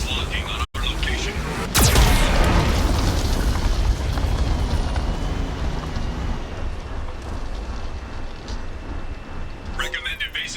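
A Geth cannon fires in Mass Effect 2 with a sudden heavy boom that rolls into a long, loud rumbling roar lasting several seconds, followed by a burst of crackling at the end.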